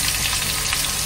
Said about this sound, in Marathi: तेल गरम झालेलं आहे. आता आपण जिरं मोहरी टाकून घेऊया. मोहरी, जिरं, कांदा टाकून घेऊया